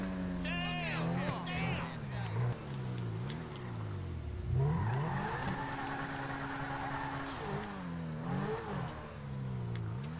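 A purple Lamborghini in a video game drives and revs hard, its engine pitch sweeping up and down repeatedly through gear changes, loud and close, with people talking over it.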